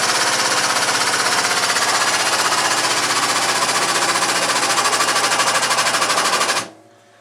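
Top Squeeze squeeze-off tool pinching polyethylene (PE) pipe: a loud, rapid, evenly pulsing mechanical chatter, like a power driver, running steadily for several seconds before cutting off abruptly into quiet.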